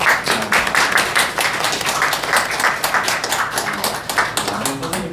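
A crowd claps together in steady, dense applause that holds for several seconds at a moderate level.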